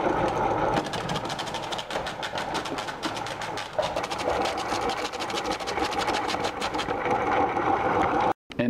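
Homemade apple masher grinding a batch of apples for cider, a steady loud motorized whir with a rough crunching texture running continuously for several seconds before cutting off abruptly near the end.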